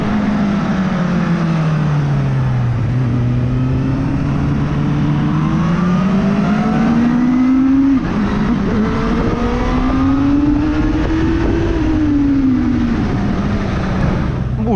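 A KOVE 450R four-cylinder motorcycle engine revs hard while riding, pitch climbing and dipping through several loud, sustained pulls that rise toward high rpm, dominating the whole stretch.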